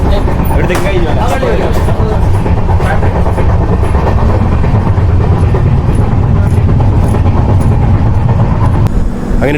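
A private tourist train runs on rails in Kerala, giving a steady, loud rumble and rattle from the carriage throughout, with voices mixed into the constant noise.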